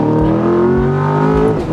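V8 engine of a 2020 Chevrolet C8 Corvette Z51 revving, a loud close-up growl with a climbing tone that surges, holds, then falls off, with no talking.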